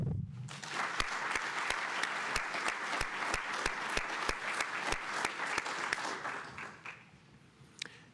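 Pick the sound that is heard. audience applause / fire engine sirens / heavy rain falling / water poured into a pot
audience applause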